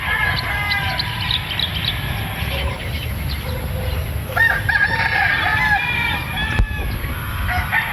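Boston Roundhead gamefowl stag rooster crowing at moderate distance outdoors, with a few crows and clucks from other fowl over steady low background rumble.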